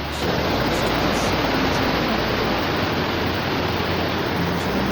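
A clear mountain stream and waterfall near Almaty produce a constant, loud rushing wash of water, steady and close throughout with no other sounds standing out.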